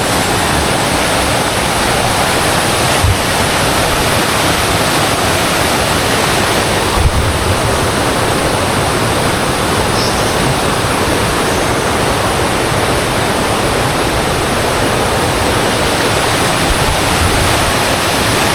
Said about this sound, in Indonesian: kita menikmati aliran sungai dulu yang cukup deras